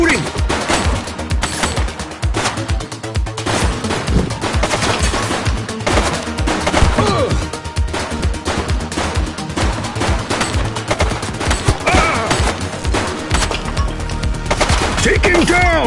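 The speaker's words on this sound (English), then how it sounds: "He's shooting!" Loud, dense gunfire from a police shooter video game on PS5, with rapid bursts and single shots overlapping throughout alongside shouted voices and game sounds.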